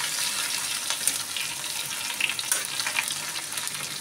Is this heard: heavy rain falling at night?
no